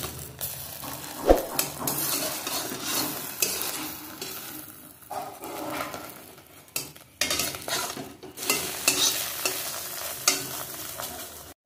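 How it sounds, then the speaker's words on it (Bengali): Egg frying in a pan, with steady sizzling and scraping, stirring clatter throughout; loud and close, with a sharp clink early on and no talk. "একইভাবে এই ডিমটাও ভেজে নেব।"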